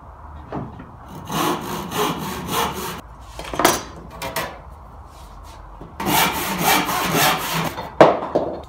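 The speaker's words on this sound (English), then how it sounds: "I'm going to cut off a piece of 16 and then cut it into some narrow strips like this." A handsaw cuts pallet wood into narrow strips, with rhythmic rasping push-pull strokes up close in bursts separated by short pauses, ending on a sharp final stroke; no speech.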